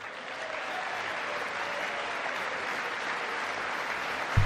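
Applause rises from the chamber during Trump's State of the Union address, a steady, moderately distant wash of many hands clapping that holds evenly throughout, ending with a brief thump.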